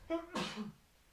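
A single short sneeze from a person, a quick sharp burst lasting well under a second, close and fairly quiet.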